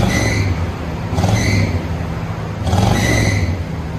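A 1984 Chevy Caprice 5.0L V8 with a Flowmaster exhaust revs in steady pulses, its deep rumble rising in three surges over a constant idle, close and loud.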